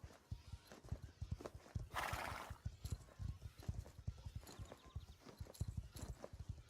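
Horse hooves clip-clop in a steady rhythm close by, with a loud snorting breath partway through and rhythmic breathing underneath.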